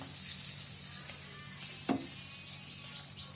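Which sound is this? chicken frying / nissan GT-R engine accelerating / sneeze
chicken frying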